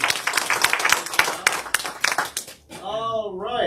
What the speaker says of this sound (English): All right, let's give David a round of applause